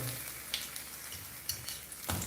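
Jamaican fritters frying in a pan, a quiet steady sizzle with occasional light clinks and scrapes of a utensil, no talking.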